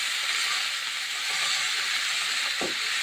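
Food fries in a pan for a Bengali home-cooked dish, giving a steady, bright hiss of hot oil. It stays close and even throughout, with one short low knock near the end.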